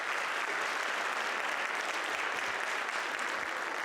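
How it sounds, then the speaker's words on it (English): A theater audience at a youth production of Junie B. Jones the Musical Jr. gives a round of applause for sponsors, steady dense clapping from many people that holds at an even level throughout. "so let's just give them a round of applause, please."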